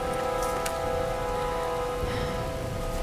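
Steady rain falls in Tomb Raider (2013), a dense, even hiss of drops hitting surfaces, with a droning tone and a couple of brief sharper splashes standing out early.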